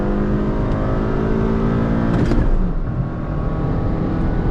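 A Hyundai Verna 1.5L diesel and a Honda City 1.5L petrol car race in a drag race, their engines giving a loud, sustained roar that briefly swells into a whooshing rush midway.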